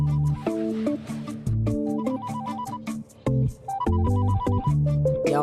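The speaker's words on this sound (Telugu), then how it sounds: "సర్లే గాని ఆ ఫోన్ చూడు." A phone ringtone plays a bright, repeating electronic melody in a comedy film scene, steady and fairly loud with brief gaps between phrases, and no talking over it.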